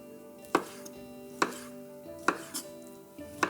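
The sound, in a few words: knife chopping chorizo into half-centimetre rounds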